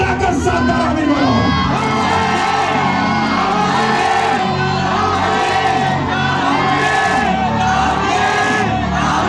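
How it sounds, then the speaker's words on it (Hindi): A church congregation at a Sunday meeting shouting together loudly, a dense, continuous roar of many voices with cheering and whooping that carries through the whole stretch. "मेरे बात चीखकर चिल्लाकर साथ आमीन बोलो।"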